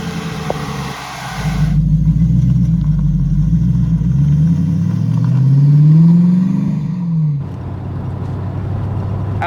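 Marcos Mantara V8 sports car engine rumbling, then revving up in a rising sweep before dropping back, close and loud, alone without talk.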